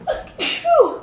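One person sneezes once, close by: a short breathy intake, a sharp burst, then a vocal trailing tail, all within about a second.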